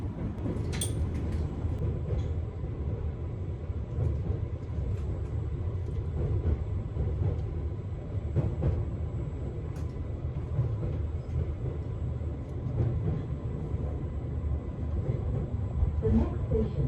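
An Island Line passenger train runs toward Ryde on the Isle of Wight with a steady low rumble and rattle of the carriage heard from inside, a few faint clicks over the continuous drone.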